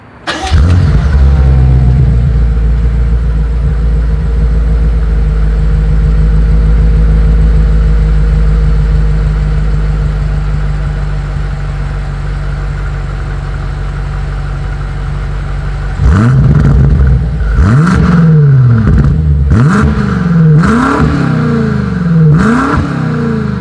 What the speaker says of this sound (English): Here is that 2020 BMW M8 exhaust clip.